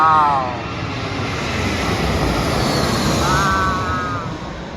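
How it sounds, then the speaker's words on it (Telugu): A Jetstar airliner coming in to land at Melbourne Airport, its engine roar swelling and easing with whining tones that sweep downward, heard from a nearby vantage point outdoors. "ల్యాండింగ్ కాకా, ల్యాండ్ అవుతుంది."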